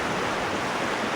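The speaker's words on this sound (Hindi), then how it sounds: "ये पानी की आवाज़ है," Dunga river near Dehradun rushing steadily, a dense, continuous broadband wash of flowing water, close and loud with no pauses.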